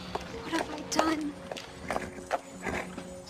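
Horse hooves clip-clop at a steady walking pace as a single horse pulls a one-horse open sleigh, with irregular thuds in a moderately close scene and voices speaking over them.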